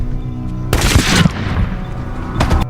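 A film scene with a loud, close gunshot blast that rings out briefly, followed a moment later by a second shorter burst, over a low background hum.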